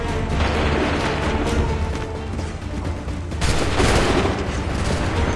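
Musket volley in the Assassin's Creed III game: a loud, close, crackling burst of many shots fired together, with another surge of gunfire partway through over a continuous battle roar.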